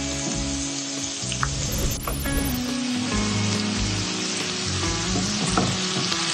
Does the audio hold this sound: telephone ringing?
no